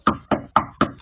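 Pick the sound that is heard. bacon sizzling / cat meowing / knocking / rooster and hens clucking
knocking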